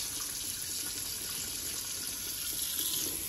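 Liquid pours steadily down a freshly cleaned kitchen sink drain, a continuous close rushing wash of fluid with no pauses and no voices.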